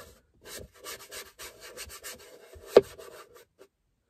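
Scrubbing grime from the center console of a 2016 Chevy Cruze, a series of short rubbing strokes in an uneven rhythm, close and fairly quiet, with one sharper knock near the end.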